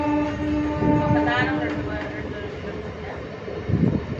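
A Vijayawada–Machilipatnam passenger train rumbles along steadily from up close, its wheels and carriages giving a continuous low rattle, with a long sustained tonal whine running through the first half and a heavier clunk near the end.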